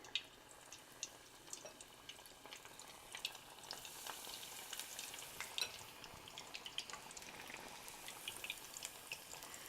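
Steady crackling and sizzling of gluten-free battered fish frying in hot oil, with scattered pops and spits throughout, close and fairly quiet.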